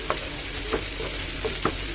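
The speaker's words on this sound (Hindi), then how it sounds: "इसे हल्का भूनेंगे ताकि इसका स्मेल निकल जाए" Steady sizzling of ginger-garlic paste frying in a hot pan, with occasional soft scrapes of a spatula stirring through it, close and continuous.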